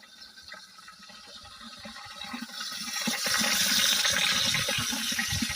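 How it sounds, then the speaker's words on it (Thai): Water drains out of a drip-irrigation fertiliser tank through a one-and-a-half-inch pipe, a rushing flow that starts soft and swells steadily louder, ending as a strong continuous gush. "เพราะว่าน้ำได้ไหลออกไป ผ่านทางท่อ นิ้วครึ่งของผมเยอะเลยนะครับ"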